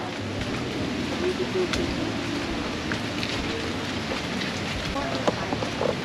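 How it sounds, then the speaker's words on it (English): Steady rain patters and hisses on leaves across the whole stretch, dense and close, with a few louder drops landing nearby. "It's still raining even though there's leaves on top of me."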